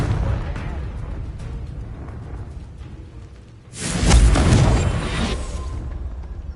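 Confringo blasting spell explosion in the game Hogwarts Legacy, a single loud booming burst that swells suddenly and rumbles off over a couple of seconds, above steady background game sound.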